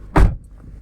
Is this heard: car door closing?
yes